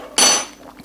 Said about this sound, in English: I'm going to put the lid on that